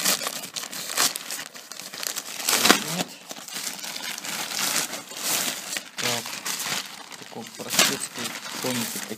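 A plastic package holding a leather jacket from China is unwrapped, giving loud, irregular crinkling and crackling bursts close by that continue throughout.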